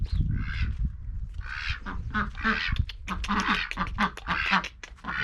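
Farmyard ducks quacking on a sunny day on a Turkish farm where chickens and dogs also lie about, with repeated nasal calls in busy bursts close by, mixed with other animal sounds and low rumble.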